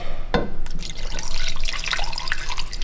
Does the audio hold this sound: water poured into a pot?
yes